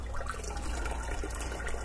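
Hot water being drained from a canning jar after boiling, used for home canning of tomatoes; a steady, close splashing pour runs continuously throughout.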